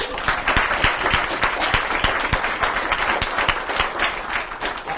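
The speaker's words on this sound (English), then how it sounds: "would you give them a round of applause?" An audience at a book reading gives a sustained round of applause, dense, steady clapping from many hands filling the room throughout.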